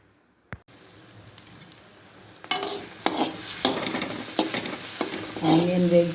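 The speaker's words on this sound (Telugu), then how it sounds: "ఆనియన్ వేగిపోయింది చూసారా." Onion and tamarind fry in a pan for a fish curry, with a spoon clanking and stirring in several scraping strokes over a growing sizzle. The sound is close, and nobody talks.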